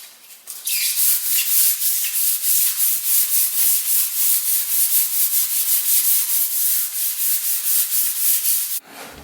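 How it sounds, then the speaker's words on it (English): Steady hand sanding of a coated surface on a Cape Dory 25D sailboat for a light scuff between coats, a close, continuous rhythmic scratching of back-and-forth strokes that runs for about eight seconds with no talk. "I'm going to go ahead and sand this down, just like a light scuffing"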